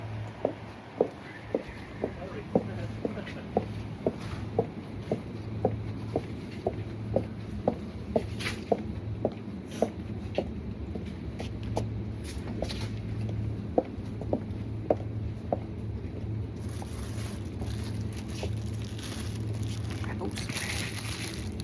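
Steady high-heeled footsteps click on a shop floor in an Aldi supermarket, a regular, fairly close rhythm of sharp taps over a low store hum.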